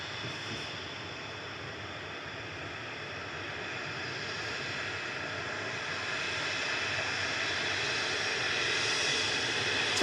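A TUI Boeing 737-800 jet on its takeoff roll, heard as a faint, distant, hissing engine roar that swells gradually over the stretch with no voices.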